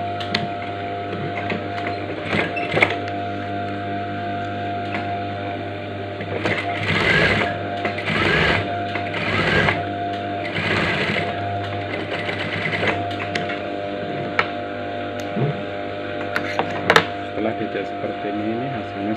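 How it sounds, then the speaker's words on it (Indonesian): A sewing machine stitches across the top of a trouser pocket flap in several close bursts of rapid mechanical chatter over a steady motor hum, while a person talks throughout. "Ini terus kita buka ini baru kita jahit atasnya,"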